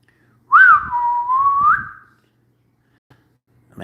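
One person whistles a single sustained tone, clear and close, starting with a quick upward slide, holding steady, then rising briefly before stopping, followed by quiet room sound.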